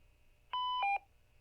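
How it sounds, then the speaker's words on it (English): A brief Roger beep from a GMRS/HAM repeater ID, two or three quick electronic tones stepping down in pitch within half a second, clear and alone over a faint hum. "And you can also add Roger beeps too like this."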